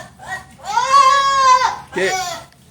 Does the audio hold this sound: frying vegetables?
no